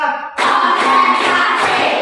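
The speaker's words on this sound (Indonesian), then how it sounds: "Tepuk 1, tepuk 2, tepuk 3, tepuk 4" Children in a fifth-grade classroom clapping their hands in a counted rhythm, a quick run of sharp, close claps following a brief tone.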